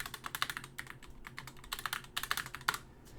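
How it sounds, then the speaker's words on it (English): Fast typing on a computer keyboard, dense bursts of crisp key clicks with short pauses between runs, close and fairly loud with no talking over it. "I'll be typing so fast."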